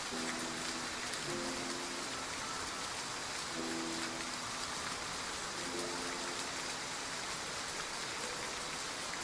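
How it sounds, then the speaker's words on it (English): Steady, dense rainfall hisses evenly throughout, a continuous wash of drops in a rainy scene from the video game Love and Deepspace, with soft musical tones drifting underneath. "We'll leave once the rain stops."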